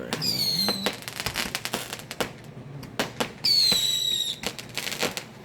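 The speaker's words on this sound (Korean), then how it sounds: "불꽃놀이를 하네요." Fireworks going off over a beach in Goseong, Korea: two whistling rockets rise and burst, followed by a rapid series of sharp crackling pops and bangs, moderately distant.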